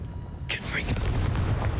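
Confringo blasting spell cast in Hogwarts Legacy, a sudden booming burst with a fiery whoosh that erupts midway and rumbles on to the end.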